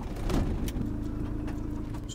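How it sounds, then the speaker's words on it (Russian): A car engine idling while it warms up, a steady low rumble close by throughout, with a few faint clicks and knocks over it. "И пора прогреть машину."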